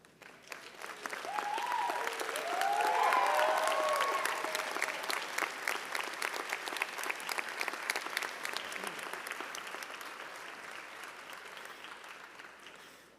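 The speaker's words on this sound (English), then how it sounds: "thank your parents and grandparents with a round of applause." Graduation audience at a College of Medicine commencement ceremony applauding parents and grandparents, sustained broad clapping from a large crowd that swells after a second and slowly tapers, a few faint voices rising briefly early on.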